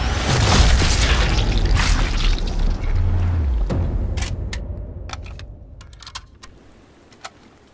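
A heavy boom from a large-calibre sniper rifle in Sniper Elite 5 rumbles and fades slowly, followed by scattered clicks and keyboard taps in the quieter tail.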